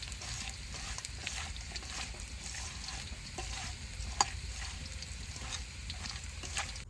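Potatoes and small river fish (chela) fry in a pan, a steady close sizzle with scraping stirs and occasional sharp pops and crackles throughout, no voices.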